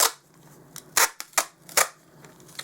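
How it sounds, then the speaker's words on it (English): Several sharp snipping sounds from scissors, about four crisp cuts spaced irregularly, close by and fairly quiet between cuts. "And then I'm going to cut another piece of tape."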